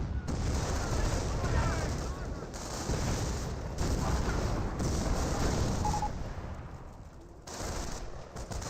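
Repeated artillery barrage explosions and gunfire from a Company of Heroes match thunder in bursts, loud and near, with short quiet gaps between volleys.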